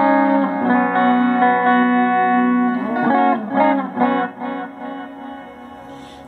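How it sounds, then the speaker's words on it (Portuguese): An electric guitar played through a Boss Katana 50 amp with SDE 3000 delay and Hall Reverb rings out in sustained chords, then a few picked notes echo and decay into a long reverberant tail, alone with no voice. "Você vê que misturou aí o SDE 3000 com Hall Reverb."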